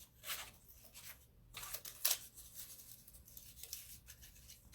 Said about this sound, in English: I've got them little scissors again.